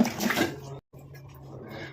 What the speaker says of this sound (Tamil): கையில் ஒட்டி இருக்குன்னு கையை வந்து வாஷ் பண்ணேன்